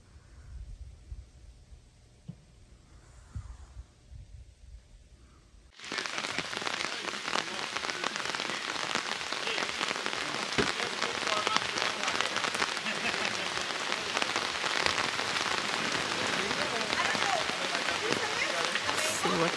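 Rain falls at a reservoir in a sudden, steady hiss that starts midway and continues densely to the end, following a quieter opening where people talk.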